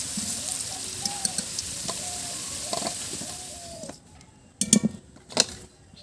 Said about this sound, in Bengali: এবার এই তেলের মধ্যেই আলু দিয়ে দেব, আলুগুলোকেও ভালো করে ভেজে নেব।